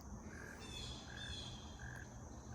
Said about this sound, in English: you can hear toads?